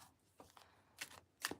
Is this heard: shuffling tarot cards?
yes